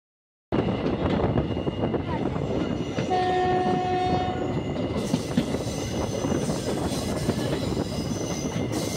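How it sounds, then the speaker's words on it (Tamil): A passenger express train on the Pondicherry to Kanyakumari route pulls away, with a continuous loud rumble of wheels and carriages, a sustained horn tone partway through, and faint voices mixed into the noise. "அவன் எடுத்த கொஞ்சம் கேப்லேயே நம்ம ட்ரெயினையும் எடுத்துட்டாங்க."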